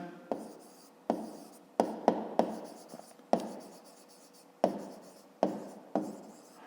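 A pen writes by hand on paper during a fifth-grade maths exercise, producing close, quiet scratching strokes with sharp taps as each stroke or digit begins, spaced irregularly and heard alone without talk.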